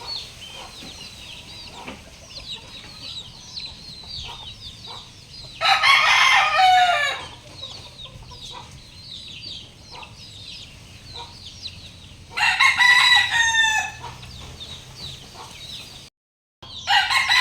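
Chickens crowing and clucking in two loud bursts, with quieter bird calls and rustling between them in an outdoor yard.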